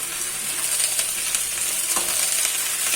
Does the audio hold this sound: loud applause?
no